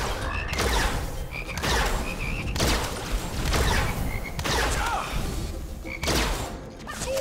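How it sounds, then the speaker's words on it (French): Frog croaking in the first-person shooter Immortal Redneck, loud repeated croaks and thuds in a busy game soundscape, several bursts roughly every second. "Une grenouille."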